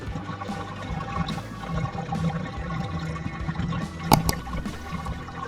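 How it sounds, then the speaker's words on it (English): Cold water runs steadily and splashes while backpacks are hand-rinsed, a continuous gushing wash close by with one brief sharp clatter near the end. "give these backpacks a nice cold rinse"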